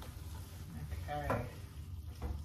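Meat and onions for lettuce wraps frying in a pan, a low steady sizzle with a quick stirring scrape, under faint talk.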